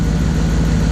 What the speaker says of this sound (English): Now I've got it sitting here idling. It's in neutral.